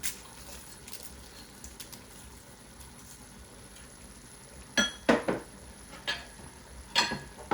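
Smoked dry prawns being added to a pot of egusi soup and stirred, with faint background hiss and a few sharp metallic clinks of a utensil against the pot toward the end.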